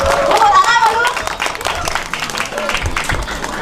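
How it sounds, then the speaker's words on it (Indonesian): Audience clapping at a Calonarang temple performance at Pura Puseh Jumpai, Klungkung, a dense broad patter of many hands that thins out slightly over a few seconds, with voices mixed in. "Tepuk tangan dulu."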